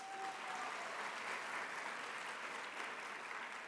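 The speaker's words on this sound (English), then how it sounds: "Let's give him a round of applause." An audience at a speaking event applauds in a steady, even wash of clapping that sounds somewhat distant and quiet, with no voices over it.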